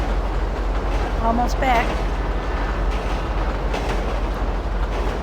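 A train rolls steadily along rails in GTA V, a constant low rumble with metallic squeals and clatter throughout, close and loud, while someone speaks briefly over it.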